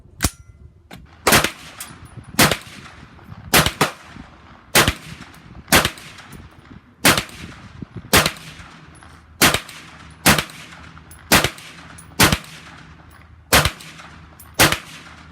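Shots from a CMMG 9mm rifle using a radial delayed blowback system, fed by a standard Glock magazine: about a dozen sharp, loud reports fired one at a time at a steady, unhurried pace, each followed by a short ringing decay.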